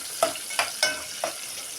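Spices frying in a pan for bagara rice give a soft sizzle, with four short, evenly spaced stirring scrapes over it.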